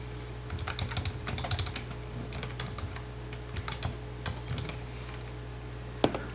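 Steady, close clatter of keystrokes on a computer keyboard while Java code is typed, with brief pauses and one sharper key strike near the end.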